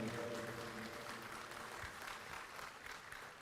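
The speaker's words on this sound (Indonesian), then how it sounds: "berikan tepuk tangan kepada Bapak Susilo Bambang Yudhoyono" Audience applause at a Partai Demokrat central board event honoring Indonesia's sixth president, a steady dense clapping wash that holds at full strength throughout, with no voices standing out.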